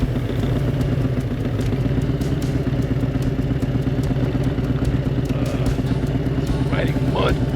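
A motorcycle ridden on a dirt trail, its engine droning loud and steady throughout with some rattling clatter from the bike and a brief voice near the end.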